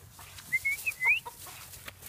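Short, soft clucks and a few higher chirping calls from nearby hens, scattered over a quiet background with no talking.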